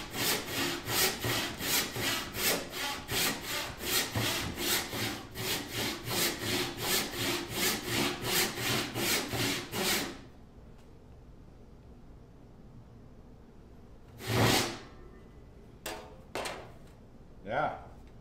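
A hand saw cuts a walnut axe wedge in about twenty quick, even back-and-forth strokes, close and clear. Then it stops, leaving a few isolated scrapes and knocks over a quiet background.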